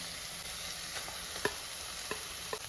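Soaked ground coconut paste going into a tomato masala for Kerala style fish curry, a soft continuous sizzle with a few sharp clicks of a spoon against the pan, no talking.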